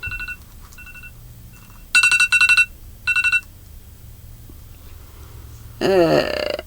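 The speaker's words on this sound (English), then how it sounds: "sorry about that alarm." An electronic alert sounds in short bursts of bright repeating tones, pausing between groups, then a warbling sweep of tones near the end.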